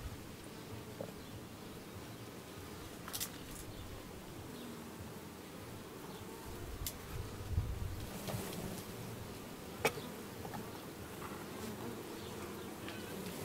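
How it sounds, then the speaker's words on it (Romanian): Honeybees buzzing around beehives at an apiary during a late-July hive check, a steady low droning swarm hum with occasional louder passes of individual bees close by. "să știți că nu se bat mai albinile, gata."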